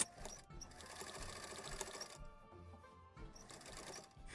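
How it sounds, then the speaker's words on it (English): A sewing machine stitches two folds of fabric for a Christmas gift item, running in a steady close mechanical whir with brief pauses near the start and in the middle. "Going to the sewing machine."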